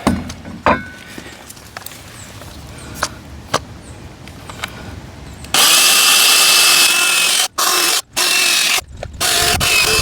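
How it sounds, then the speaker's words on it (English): A few soft clicks and taps, then a power drill whirs loudly into a wall to mount a hose reel, stopping briefly twice before starting again. "So now I can drill in."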